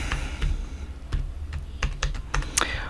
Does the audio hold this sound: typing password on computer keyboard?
yes